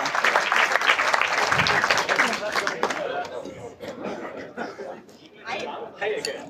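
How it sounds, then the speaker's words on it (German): An audience at a live stage event breaks into loud, dense applause that fades after a few seconds into scattered claps, chatter and chuckles, and a voice speaks over the dying clapping. "Dafür einen großen Applaus"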